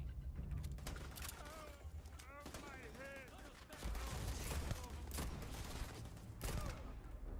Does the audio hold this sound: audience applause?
no